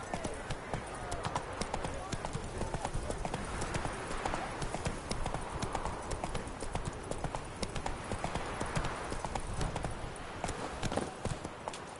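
Hooves of Roach, a video-game horse, clip-clop in a steady walking rhythm, close and continuous, with a voice speaking over them at times.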